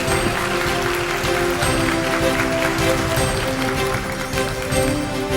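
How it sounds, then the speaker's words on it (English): An audience applauds at a DOST science awards event, a dense, continuous wash of clapping at steady loudness that fills the whole stretch without pause. "round of applause"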